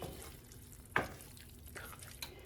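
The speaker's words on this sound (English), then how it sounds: "now we're going to let this sit and simmer for a few minutes" Ground beef stroganoff bubbling gently in a pan, a faint steady sizzle with one sharp stir or clink near the start and a softer knock later, no voices.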